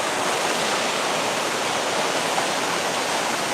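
Water rushing steadily at a shaded walk-in water feature on a university campus, a dense, even splashing hiss like a small waterfall, close and constant with no voices.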